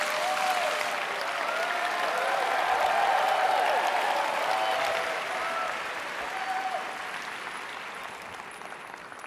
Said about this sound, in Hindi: तो ताली बजाएं।